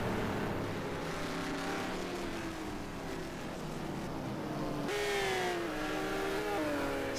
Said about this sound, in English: here is the whole URL grid flashing by at the start-finish line at Nogaro